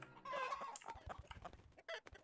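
Chickens clucking in Totally Accurate Battle Simulator, a video game, with a burst of squawking followed by a rapid run of short clucks, close and fairly loud.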